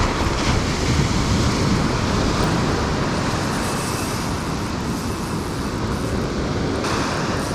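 Steady, dense roar of surf washing onto a beach where someone fishes with topwater lures, wind and constant broadband wash filling the whole stretch with no pauses and no talk.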